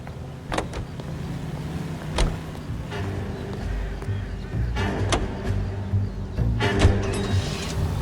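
A car driven in the video game LA Noire produces a low, steady engine hum, with brief mechanical whirs and clicks rising over it at intervals.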